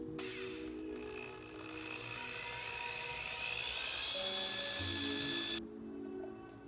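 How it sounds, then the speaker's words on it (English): A power drill bores a hole in the bottom of a plastic hopper for a DIY air gun, whining in a sustained high-pitched buzz that rises in pitch and then cuts off sharply. "what I'm actually gonna do is just drill out a hole on the bottom here"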